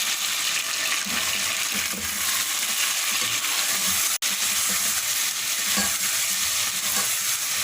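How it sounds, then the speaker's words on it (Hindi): Chicken sizzles steadily in a hot pan, a constant crackling hiss with occasional stirring scrapes and one sharp click partway through. "चिकन को फ्राई करना है हमें"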